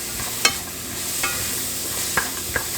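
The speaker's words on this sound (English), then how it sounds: "We're going to mix it." Half an onion stirred in a hot pan: a continuous close sizzle with a few sharp clicks of the utensil against the pan, no voices.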